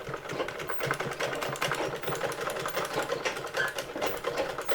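Sewing machine stitching a saree blouse, running steadily and close by with a fast, even mechanical whir throughout, with no talking over it.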